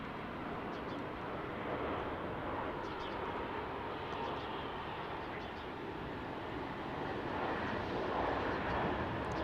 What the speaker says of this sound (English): It's a nice smooth landing right there.